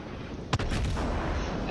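The main guns of the Japanese battleship Amagi fire in the naval game World of Warships. One heavy, booming salvo is followed by a long, loud rumbling roar.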